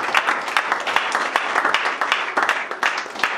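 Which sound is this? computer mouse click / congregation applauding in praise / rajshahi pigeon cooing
congregation applauding in praise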